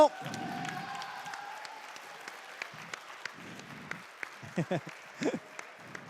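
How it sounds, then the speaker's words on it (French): Thin, scattered clapping from a small audience at a Numerik Games gaming tournament; faint, with a few louder bursts of claps near the end and little else around it. "Un gros applaudissement pour Sotirod"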